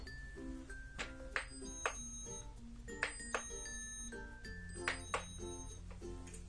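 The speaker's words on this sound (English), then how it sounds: "don't forget to ring the doorbell, Peppa." Bright electronic chimes ring out in repeated clusters from a Peppa Pig toy house doorbell, near and fairly clear over a low steady hum.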